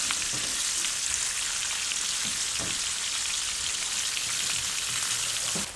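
Lamb chops sizzle on their sides in a pan of garlic butter, a dense continuous hiss and crackle with occasional soft clinks of a utensil.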